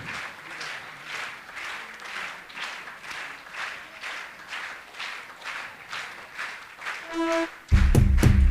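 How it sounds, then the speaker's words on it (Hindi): Audience applause at an annual festival opening with a lamp-lighting ceremony, steady sustained clapping from a crowd that carries throughout, ending with a brief tone and a loud thump. "तालियां बजती रहनी चाहिए आपकी।"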